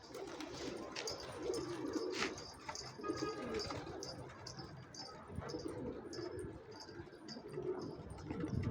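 Pigeons in a loft coo repeatedly at their nests, overlapping low rolling calls that continue throughout at close range, with some scattered background noise.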